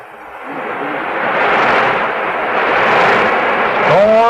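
A radio studio storm-at-sea effect made with BB shots and a drum head: a loud, continuous roaring rush like wind and crashing waves, swelling and surging, with a brief tonal sound near the end.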